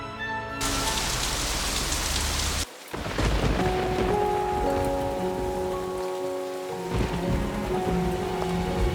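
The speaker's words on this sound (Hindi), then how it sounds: "ओह डियर, बाहर बहुत बारिश हो रही है।" Steady heavy rain hisses without a break, with a short cut near the start and faint tonal sounds running underneath.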